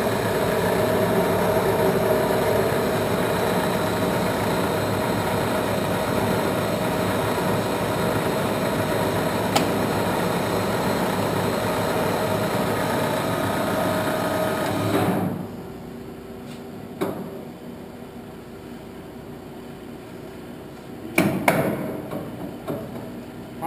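A Standard Modern 1660 C 17 by 60 inch metal lathe runs with a steady mechanical hum and drone, then spins down and falls quieter, followed by a couple of brief clunks near the end.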